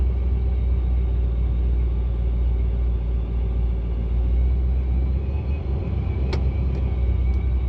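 A Procharged Pontiac GTO engine idles with a deep, steady, close rumble as the car is put in reverse, with a brief sharp click near the end.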